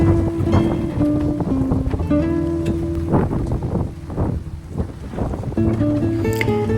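Very strong wind in Sicily buffets the microphone with a continuous loud roar and gusting rumble, while steady low tones hum underneath.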